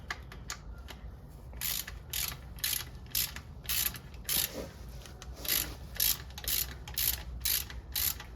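A ratchet tightens the transmission drain plug on a BMW E9x 328i with a manual gearbox, a series of crisp clicking bursts in a steady rhythm, close and fairly quiet, with no one speaking.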